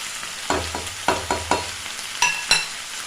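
Bitter gourd frying with turmeric, chilli and sambar powder in a pan: a low sizzle punctuated by several sharp scraping strokes of a spatula at an uneven rhythm, close and without talk.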